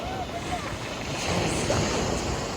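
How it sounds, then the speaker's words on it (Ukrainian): Sea waves wash onto an Albanian shore with a steady broadband surge under wind noise, swelling louder in the second half; a voice speaks faintly in the background. "Ах, хвиля яка."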